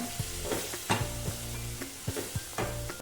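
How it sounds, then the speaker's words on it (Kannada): Chilli masala for chicken red roast frying in a pan, a soft continuous sizzle broken by a handful of sharp spatula scrapes and taps, close and alone. "ಹಸಿ ವಾಸನೆ ಹೋಗೋವರೆಗೆ ಇದನ್ನೊಂದು ಸ್ವಲ್ಪ ಫ್ರೈ ಮಾಡ್ಕೊಳ್ಳೋಣ"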